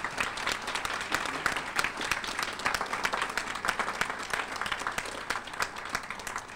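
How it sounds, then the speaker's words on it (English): An audience at a City Club meeting applauds steadily, a sustained, even wash of many hands clapping from start to finish with a faint voice underneath. "Please give a special round of applause to Rudy Wilhelm."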